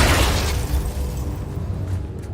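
Confringo blasting spell in Hogwarts Legacy, a loud deep boom that bursts at once and rumbles away over about two seconds.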